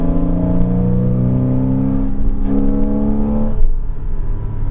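A 2006 Porsche 987 Cayman S accelerating, its engine note rising in pitch with a loud, close, steady droning roar that fades slightly near the end.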